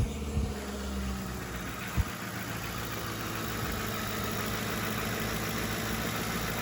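A car engine idles steadily just after starting, a low, even rumble with a faint rattle in it and a single brief knock early on, close and continuous with no talk.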